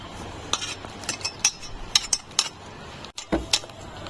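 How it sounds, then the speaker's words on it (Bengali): A utensil clinks and scrapes against a bowl as gram flour (besan) is mixed with small amounts of water, giving irregular sharp taps and stirring clatter, close and fairly loud. "এখন অল্প অল্প জল দিয়ে এটাকে মেখে নেব।"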